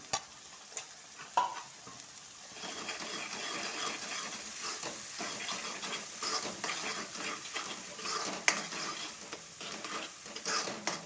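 Malvani-style prawn curry masala with fish curry masala and coriander-cumin powder fries in oil as a spoon stirs it, giving a soft continuous sizzle broken by scraping strokes and occasional clicks of the utensil against the pan.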